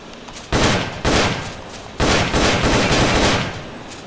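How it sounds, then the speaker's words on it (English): An M16 assault rifle in Metal Gear Solid Peace Walker fires in loud rapid bursts, three clustered volleys of gunfire with short gaps and a tailing echo between them. "The M16 is a standard assault rifle,"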